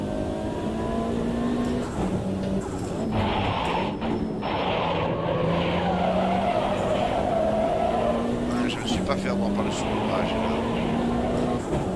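A Mitsubishi Lancer Cup car slides over a kerb in the Automobilista 2 racing game, a loud, continuous engine drone that shifts pitch with the gears and carries tyre and kerb rumble, with talk over it.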